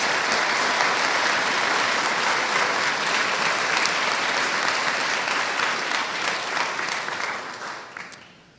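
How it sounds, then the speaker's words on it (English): Sustained applause from a large audience at a nuclear engineering graduation ceremony, dense and steady clapping that carries evenly for about eight seconds before fading away at the end. "Please, one more last round of applause for our Masters of Science in Nuclear Engineering students."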